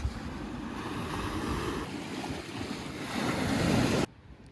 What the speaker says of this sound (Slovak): No a tu sa už pozeráte na pláž.